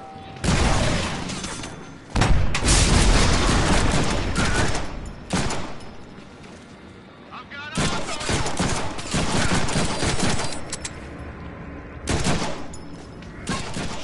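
Gunfire in a Deadpool video game: loud bursts of rapid shots and booms in several volleys separated by brief lulls, with voices now and then.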